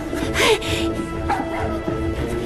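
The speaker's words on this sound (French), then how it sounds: "J'ai entendu ton chien" A dog gives a short bark followed by whimpering yips, close and fairly loud, over a busy indoor background.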